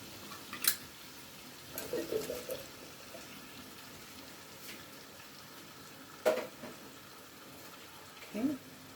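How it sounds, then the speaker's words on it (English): Drained butter beans tipped into a curry pot with soft wet thuds and clatter in a few bursts, faint and fairly close, with quiet kitchen background between. "now I'm going to throw in my butter beans"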